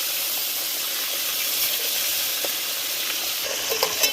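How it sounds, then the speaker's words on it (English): Onion, sweet pepper and celery fry in a pan with rice and a dusting of salt, giving a steady, close sizzle and hiss with a few faint stirring clicks near the end. "I'm going to fry it off for 5 to 10 minutes"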